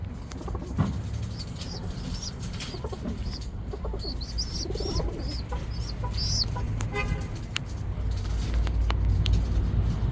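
Small birds at a bird supply shop chirp and cluck in short, scattered calls over a steady background hum, with faint talk nearby.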